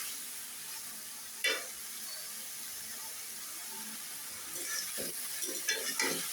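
Vegetables sauté in a pan with a soft, steady sizzle and hiss, broken by occasional spoon scrapes and knocks as they are stirred, quiet and close, growing busier toward the end.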